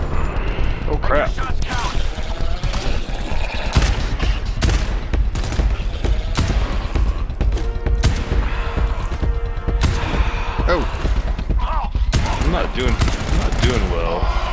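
Enemy gunfire rattles through GTFO in dense, continuous bursts of close cracks and machine-gun-like volleys, with someone talking in the clip now and then over the shooting.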